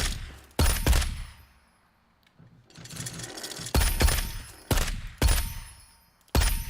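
Gunfire at a generic shooting range in a video game: loud, sharp shots come in irregular bursts and singles, each with a short decaying tail, separated by brief quiet gaps.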